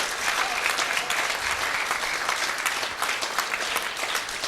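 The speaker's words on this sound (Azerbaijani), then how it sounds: "Rəşadı alqışlayaq." A crowd at a live poetry contest claps, a dense, steady wash of applause that runs for a few seconds without pause, with faint voices mixed in.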